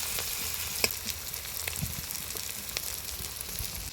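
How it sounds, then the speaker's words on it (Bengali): Sliced onion and whole cumin seeds fry in katla fish oil, giving a steady close sizzle with occasional sharp pops and spits throughout, no voices. "কাতলা মাছের তেলটাও সুন্দর ভাজা হয়ে যাবে পেঁয়াজটাও সুন্দর মুজড়ে যাবে"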